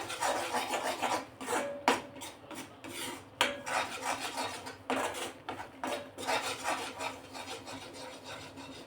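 Gram flour roasting in a pan for mohanthal, with a steady dry scraping and rasping of a spoon against the pan in repeated strokes, close and fairly quiet, without talk.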